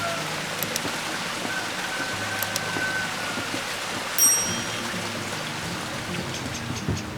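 Rain falling along a levada trail in Madeira near Porto da Cruz as clouds blow in off the ocean, a steady hiss of drops on leaves and ground with no one talking.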